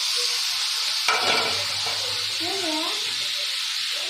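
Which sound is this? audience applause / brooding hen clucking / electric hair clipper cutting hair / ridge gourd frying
ridge gourd frying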